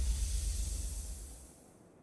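A voice imitates spraying a water bottle with a breathy, steady hiss that lasts about two seconds and fades out at the end, alone and fairly quiet.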